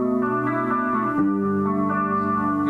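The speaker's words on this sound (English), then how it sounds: "This is my guitar, and here's with chorus." An electric guitar runs through a Boss chorus pedal, sustained chords ringing with a shimmering, wavering modulation and a lush, wide tone, with a chord change midway and no talking.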